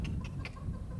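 Three short, sharp clucks from a rooster over a steady low rumble of background noise.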